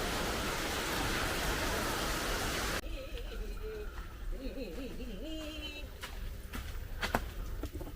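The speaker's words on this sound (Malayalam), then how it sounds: "ഇപ്പം മഴ തുടങ്ങിയിട്ടുണ്ട്" Steady rain hisses loudly at first, then drops back as voices talk over a softer patter of falling rain in a home setting.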